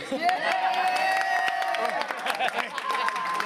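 A small group cheers and whoops excitedly before a Jeep ride, bright overlapping voices and some clapping close by, with talk mixed in.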